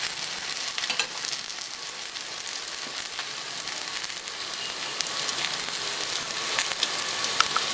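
A Kerala parotta cooks on a hot tawa, giving a loud, even sizzling hiss that runs unbroken throughout, close up and with no voices.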